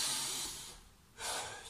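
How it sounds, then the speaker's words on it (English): Deep breaths during a children's and family cardio workout cool-down: two long, airy exhales, the first lasting most of a second, then a pause and a second breath, close and fairly soft. "3 big breaths."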